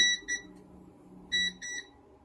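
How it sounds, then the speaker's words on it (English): Confirmation buzzer on an Elegoo Saturn MSLA resin 3D printer signalling Z-axis homing, sounding as two pairs of short, bright electronic beeps separated by a pause, close and clear over faint background hum. "The Z-axis home position is detected with a photoelectric fork sensor and confirmed with a loud buzzer."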